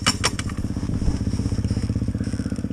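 A 2001 Evo 250 two-stroke enduro motorcycle being started: a few sharp kick clatters, then a rapid, steady pulsing two-stroke idle, loud and close, with no talk.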